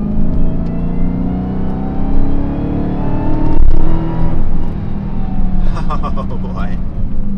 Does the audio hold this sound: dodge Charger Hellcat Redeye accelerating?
yes